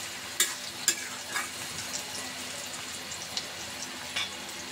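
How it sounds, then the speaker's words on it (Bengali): Onions soften in oil with a pinch of salt, giving a low, steady sizzle with a few sharp scrapes and taps of a spoon as they are stirred, fairly quiet and with no speech. "আমি একটু লবণ দিয়ে পেঁয়াজগুলি একটু নরম করে ভেজে নেব"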